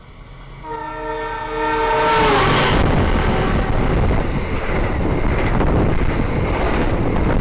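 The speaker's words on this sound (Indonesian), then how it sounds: "Itu barusan dia, kereta api Lodaya. Lewat sini ngebut banget" A Lodaya passenger train on the Kroya–Banjar line sounds its horn with a sustained blast, then roars loudly and continuously past Lebeng station at high speed, with heavy wind rush over the microphone.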